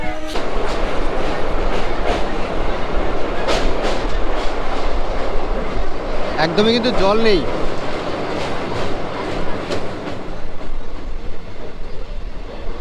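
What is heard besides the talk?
train running from Siliguri toward Lataguri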